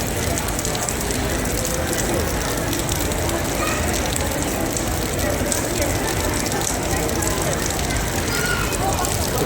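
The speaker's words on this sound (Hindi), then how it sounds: "It's raining" Steady heavy rain falling outdoors in Malaysia near the Petronas Twin Towers, a dense, continuous hiss filling the whole stretch at an even, fairly loud level with no pauses.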